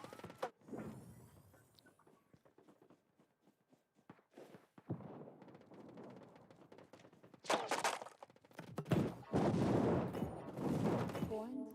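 A grenade blast and gunfire in the mobile shooter Battle Prime during a pro league tournament match: scattered thuds and shots at first, then dense, loud bursts of fire and explosion near the end.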